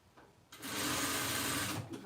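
Sewing machine runs a short burst of stitching and backstitching through fabric while sewing the strap of a reused-fabric tote bag, starting after a brief quiet moment and running steadily, close and loud.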